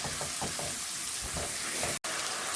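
Spice paste (masala) for a beli fish curry frying in oil, a bright continuous sizzle with soft scraping stirs, close and alone.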